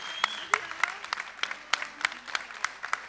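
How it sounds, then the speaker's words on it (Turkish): A small audience at a Turkish stage show gives sparse, uneven claps, a few sharp individual hits spaced through the moment, with a voice sounding faintly underneath. "Alkışlar mıyız sevgili Abdullah Demirkıran abi?"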